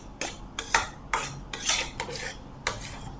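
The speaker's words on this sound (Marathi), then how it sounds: "त्यामुळे एकदम सारखं हलवत राहायचं आहे" A spoon scrapes and knocks against a pan in uneven strokes while a thick kandi peda mixture is stirred, about seven close, distinct scraping bursts with little sizzle.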